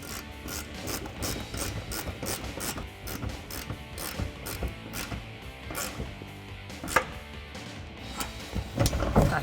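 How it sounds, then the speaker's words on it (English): A 1/2-inch drive ratchet with an 18mm socket tightens suspension bolts on a 2012-2018 RAM 1500 lift install, giving a steady, rapid run of close metallic clicks that keeps going with brief pauses and a few clanks near the end. "Now we'll take our 18mm and our ratchet and we'll tighten them up."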